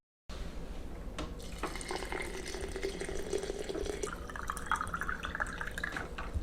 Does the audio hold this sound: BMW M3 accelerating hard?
no